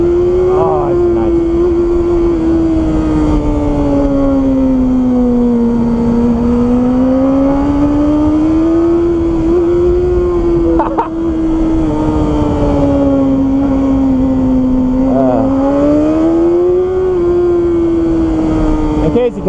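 A BMW S1000RR four-cylinder motorcycle engine holds a loud, steady high-RPM howl, its pitch rising and falling in smooth waves as the rider feathers the throttle, close and continuous throughout, with no one talking.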